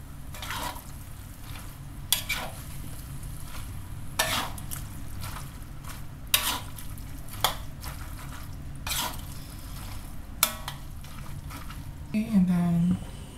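A vegetable curry is stirred in a pot, with a spoon giving scattered clinks and scrapes against the metal over a steady simmering hiss, ending in a brief louder scrape.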